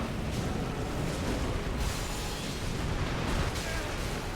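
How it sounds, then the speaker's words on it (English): A loud, sustained video game explosion, a dense broadband roar with rumbling bursts that swell and pulse for several seconds, filling the mix close up. "Whoops! Don't stand in the explosion."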